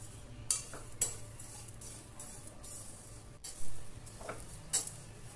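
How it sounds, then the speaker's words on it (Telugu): A utensil scrapes and clinks against a pan while shrimp shells are stirred and fried, soft intermittent metallic taps over a faint, low sizzle, quiet and close. "రేపొట్టు వేసుకుని ఇలా కలుపుతూ వేపండి."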